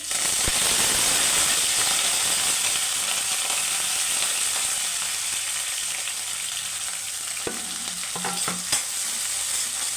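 Onions, green chilies and curry leaves fry in hot oil for a cabbage curry, a steady loud sizzle throughout with occasional scraping stirs of a spoon against the pan.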